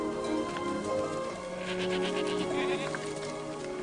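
A herd of rare, endangered Rove goats bleats outdoors in Provence, several overlapping wavering calls close by, with faint birds or insects in the background.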